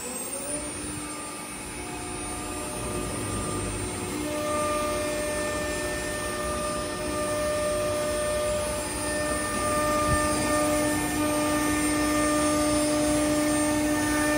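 A K8-1325 machine's spindle spins at over 18,000 RPM, giving a steady, loud, continuous high whine with a broad droning roar that holds unbroken throughout.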